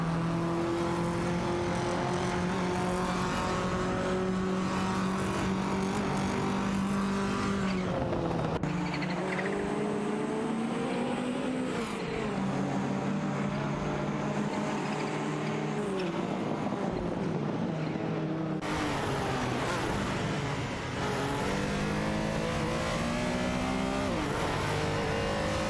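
A Ferrari 288 GTO and a Ford Sierra RS500 race in a video game, their engines a continuous close droning whine that climbs and drops with shifts and revs.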